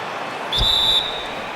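A referee's whistle blows for a foul in the basketball video game NBA 2K17, a single steady high blast lasting about half a second over continuous arena crowd noise.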